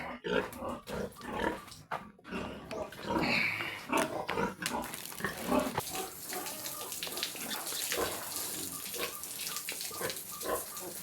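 Pigs grunt and squeal up close while water gushes and splashes from a tap, the spray steady beneath the animals' noises.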